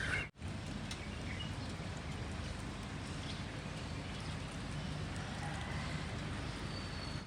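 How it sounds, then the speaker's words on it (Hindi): Steady, even rain in Lahore falls through the whole stretch as a continuous broadband hiss, loud and close, cut only by a brief dropout near the start, with no voices over it. "बारिश जो है ना भैया आज लगता है थमने का नाम नहीं लेगी"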